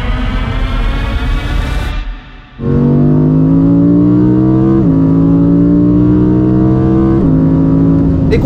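An Audi R8 GT road car, the street-legal model, accelerates hard with a loud, close engine note that climbs through gear after gear. It drops out briefly after the first pull, then rises again in repeated upshift steps.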